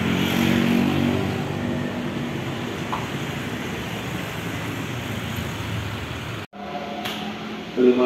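A motorcycle rides through a busy roadway area near a railway station under construction, with a steady engine and traffic rumble that cuts off abruptly near the end as it stops, followed by a brief quieter tail.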